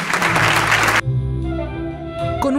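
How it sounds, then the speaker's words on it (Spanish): An audience gives a brief burst of dense applause for Cervantino festival cultural workers, lasting about a second before music takes over. "un aplauso para ellos porque traen la cultura"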